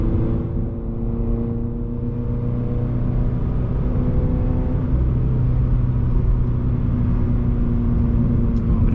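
A second-generation Subaru BRZ cruises in higher gears, with a steady loud engine and exhaust drone and road rumble from inside the car.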